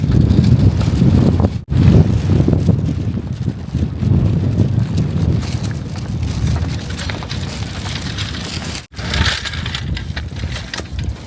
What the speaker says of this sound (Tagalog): Sobrang lamig. Tapos malakas pa yung hangin.